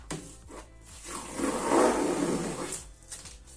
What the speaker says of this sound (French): J'enlève mon scotch.